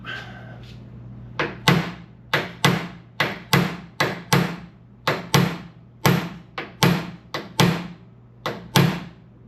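Sharp metallic hammer taps strike repeatedly at an uneven, steady pace, driving a part through a mirror mount, about a dozen loud close blows, each ringing briefly over a low steady hum.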